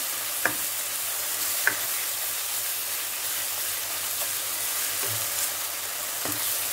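About four spoons of yogurt fry and are stirred in a pan for paneer butter masala. A steady, close sizzle runs throughout, punctuated by a few sharp spoon taps against the pan.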